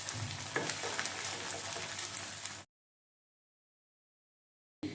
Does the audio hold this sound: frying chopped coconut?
yes